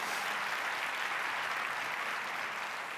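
Steady applause from a crowd, dense clapping that holds at an even level throughout with no break.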